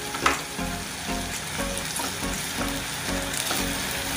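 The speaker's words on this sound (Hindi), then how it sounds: "इसमें मैं लहसुन डालूंगी और हरी मिर्च, इसे मैं फ्राई करके लूंगी।" Garlic and green chilies frying in a couple of spoons of oil in a kadhai, a dense continuous sizzle with soft rhythmic stirring scrapes underneath, no voices present.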